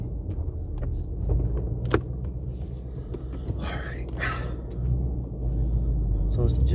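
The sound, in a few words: manual transmission car engine running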